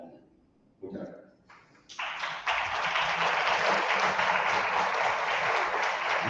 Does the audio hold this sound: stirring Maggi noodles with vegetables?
no